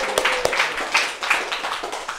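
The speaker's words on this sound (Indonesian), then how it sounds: "Tepuk tangan dulu dong." Scattered clapping from a small audience at a casual stand-up comedy audition, a burst of irregular claps that starts quickly and thins out over about two seconds, fairly close.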